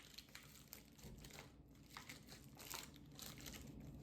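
A cheese stick wrapper is peeled open, giving faint, close crinkling and crackling of thin plastic over a few seconds.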